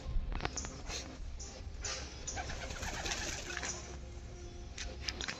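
Pigeons pairing up, soft repeated cooing close by against a busy background of rustling and faint bird calls, with no talk over it.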